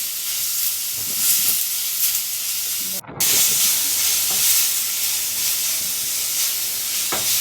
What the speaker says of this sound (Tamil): வெங்காயம் போட்டு நல்லா வதக்கணும்.